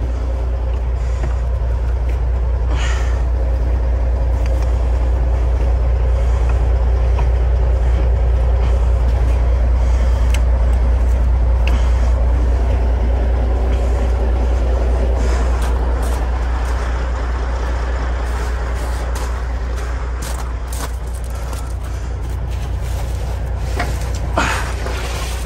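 A semi truck hauling pallets near Moses Lake, Washington, strains to pull its sunken load out of soft gravel, its engine a loud, close, sustained low rumble that swells and eases slightly throughout.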